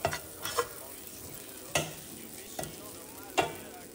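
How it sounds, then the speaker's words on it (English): Butter sizzling in a frying pan on a home stove, a soft continuous crackle with a few sharper scraping and clinking taps from a utensil, close and fairly quiet. "we butter our pans."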